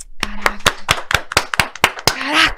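A handful of sharp hand claps in a podcast studio, about ten quick uneven slaps close to the mic, with a voice briefly calling out over the last few.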